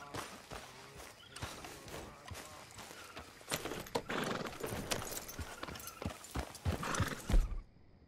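Horse hooves clip-clop steadily as a rider travels on horseback in Red Dead Redemption 2, a close, continuous rhythm of footfalls with an occasional whinny and faint background sounds.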